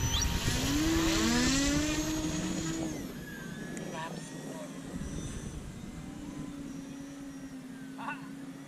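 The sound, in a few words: radio-controlled aerobatic model plane flying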